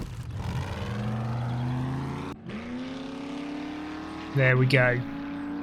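A vehicle engine in the video game 7 Days To Die drones steadily, drops away briefly, then climbs again with rising pitch, while someone speaks over it.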